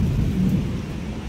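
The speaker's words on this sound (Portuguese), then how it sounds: "Já tá chovendo muito" Heavy rain pours steadily in a severe storm with a deep rumble of thunder underneath, dense and continuous throughout.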